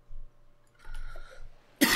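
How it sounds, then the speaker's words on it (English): A person coughs at close range, one short throaty cough and then a longer harsh bout, with a sharp loud burst at the end. "I have a wonderful cough right now."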